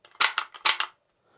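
Glock-style blowback ejection toy pistol fired twice in quick succession, each shot a sharp plastic snap with a clacking slide cycle, close and loud, with no talking.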